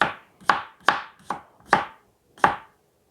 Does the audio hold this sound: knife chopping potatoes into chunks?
yes